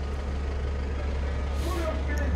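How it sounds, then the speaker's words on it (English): Buses idling at a bus stand in Thailand, a steady low engine drone with a brief hiss of an air brake and a faint beep, people talking nearby. "There's some bus stand."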